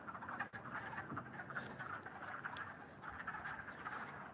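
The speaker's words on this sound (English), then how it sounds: "There's frogs everywhere." Frogs croak continuously in a dense outdoor chorus, many calls overlapping at a steady, moderate distance with no talking.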